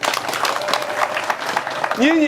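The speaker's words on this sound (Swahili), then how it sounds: "Makofi kwao." A crowd at an outdoor public meeting claps in a steady burst of applause, with someone speaking loudly over the clapping throughout.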